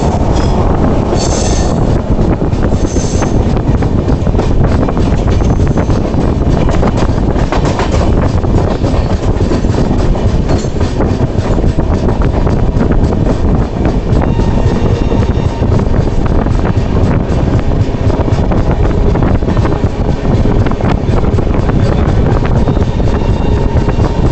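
An Agra to Sabarmati express train hauled by a Kanpur shed WP7 locomotive rolls along, giving a loud, steady rumble of wheels on rail with wind buffeting throughout and no talk.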